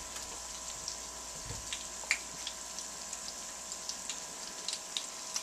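Bacon-wrapped chicken deep fries in hot oil, giving a steady, quiet sizzling hiss with scattered small pops and crackles.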